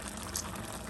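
Seafood stew simmering in a pot, a close, steady bubbling and gurgling of liquid heard on its own for a brief moment.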